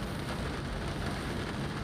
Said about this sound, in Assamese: অৱশেষত বৰুণ দেৱতা সন্তুষ্ট হৈ বৰষুণজাক দিলেগৈ।